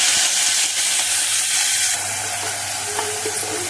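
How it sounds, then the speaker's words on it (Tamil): Mustard seeds in hot oil make a constant dense crackling sizzle with faint pops scattered through it, close and steady, with no voices. "கடுகு வெடிச்சிடுது"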